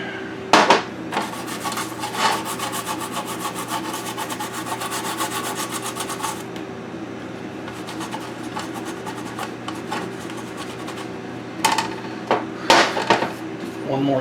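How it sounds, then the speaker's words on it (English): Stiff brush scrubbing flux off an Ultimate Mortal Kombat 3 arcade circuit board, a steady close rasping rub for several seconds, then quiet before a few short scrubbing bursts near the end. "we can clean up all of our flux, and by scrubbing all of it off, if any legs are loose"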